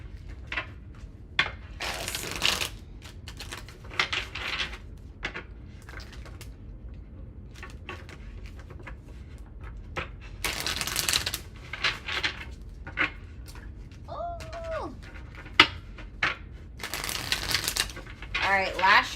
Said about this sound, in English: All right, last shuffle for Sagittarius.